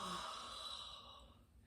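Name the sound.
person doing a deliberate fake yawn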